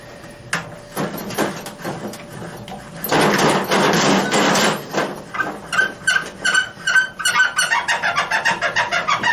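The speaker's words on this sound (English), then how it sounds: "You can hear them bushings." Dry, unlubricated suspension bushings squeak on a rotten 1956 chop-top oval-window VW Beetle fitted with Porsche suspension, giving a clattering start followed by a quick rhythmic series of sharp chirping squeaks as the suspension moves.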